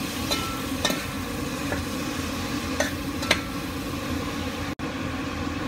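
Tomato is stirred into browning chicken and vegetables in a frying pan, with scattered scraping utensil strokes over a steady loud sizzle.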